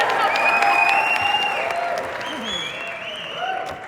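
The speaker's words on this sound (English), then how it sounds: "you can clap for that" A large conference audience breaks into dense, sustained applause with a few whistles and cheers, loud and close, fading slightly toward the end.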